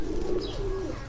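A golden pigeon coos close by, low and soft, in a brief rolling call against faint background hum.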